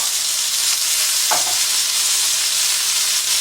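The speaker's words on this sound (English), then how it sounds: "Let's stir these things." Chicken and vegetables for Thai-style curry noodles are stirred in a hot pan, a steady loud frying sizzle running throughout with one brief utensil scrape near the middle, no talking.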